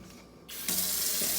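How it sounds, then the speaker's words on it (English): Water from a sink tap, turned on for warming before wet sanding, starts with a soft trickle and then opens up into a steady, loud hissing stream close by, with no voices. "We turn the water on and we let it get warm."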